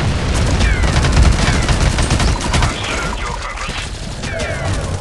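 Dense video game battle audio: a grenade explosion amid sustained gunfire, with rapid overlapping shots, crashes and booms filling the whole span at close, loud level.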